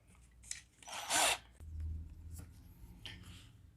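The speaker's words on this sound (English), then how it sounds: "We're going to want to put our small drill bit back in there and get it drilled out for tapping" A short burst of high-pitched drilling with a small drill bit into a Hot Wheels Bugatti Chiron toy car, a brief whine lasting about a second, then quieter scraping and rubbing sounds.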